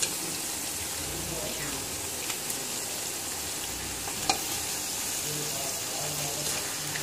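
Chicken frying in a pan with golden onions and partly cooked potatoes, a constant dense sizzle with occasional sharp clicks of a utensil against the pan.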